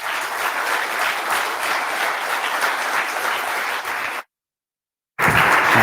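An audience at the Ubuntu Summit opening plenary in Prague applauds in a steady, dense roar of clapping, broken by about a second of complete silence before the clapping returns at full strength.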